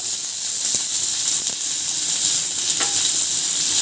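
Chopped onion frying in a hot pan with cumin and green chili, a loud, bright, continuous sizzle up close with a few faint clicks of a spoon.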